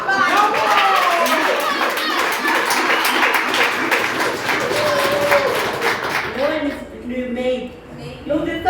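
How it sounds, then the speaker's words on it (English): Loud audience applause and cheering ring out at a stage event, mixed with excited voices, then die down into talking near the end. "Another round of applause for Gatero."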